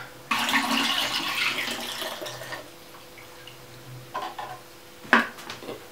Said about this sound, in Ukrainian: Зливаємо провідник.